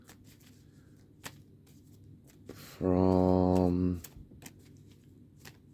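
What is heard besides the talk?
drawing cards from a deck for a card reading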